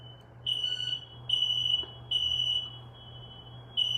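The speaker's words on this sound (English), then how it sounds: "Is the fire alarm going off in my house?" Smoke alarm going off inside a house, loud repeated high-pitched beeps in short bursts of roughly half a second, with a low hum beneath and no talk.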